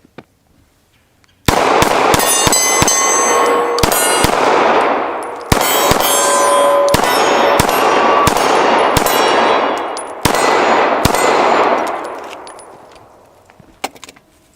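A Glock 19 pistol fires a full magazine outdoors. Loud sharp shots come in an uneven rapid string, each with a ringing metallic tail and echo, and the reverberation fades out at the end.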